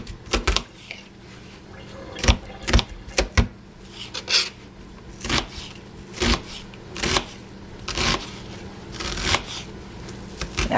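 A sharp knife chops through an onion on a cutting board in a home kitchen while making taco soup, giving a run of crisp, separate knocks at an uneven pace, close and fairly loud, with no talking.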